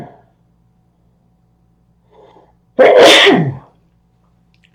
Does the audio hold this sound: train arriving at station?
no